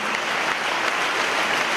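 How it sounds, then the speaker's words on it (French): Political rally audience applauding, a dense, steady wash of many hands clapping at close range, continuous and loud throughout without any speech. "vous pouvez applaudir Yves Damécourt"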